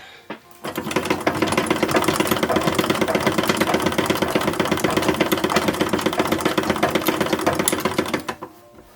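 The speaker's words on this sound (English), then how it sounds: "Alright, I'm sewing on the waistband." A sewing machine runs steadily for several seconds, stitching a silk waistband onto a doll's skirt for an 1860s-style skating outfit. The needle chatters fast and even at close range, then the motor stops.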